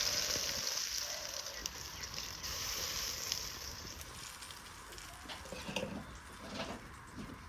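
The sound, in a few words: black pepper tempering in hot pan for mutton trotter curry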